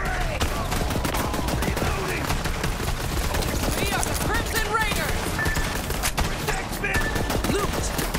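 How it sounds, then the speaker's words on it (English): Rapid bursts of video-game gunfire from Borderlands 3, dense and continuous with sharp cracks layered over a busy mix of game effects and music, with voices talking underneath. "Gun going off from nowhere."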